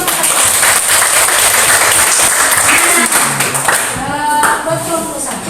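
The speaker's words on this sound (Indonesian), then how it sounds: "Tepuk tangan buat kelompok 1." Students in a classroom applauding group 1, a loud, dense wash of clapping that carries steadily, then thins out near the end as a voice begins speaking over it.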